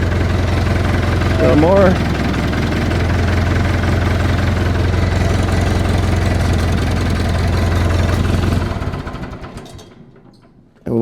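A vehicle engine idles loud and close with a steady low rumble and a knocking vibration, a brief voice speaking over it, then the engine is shut down and the rumble fades out.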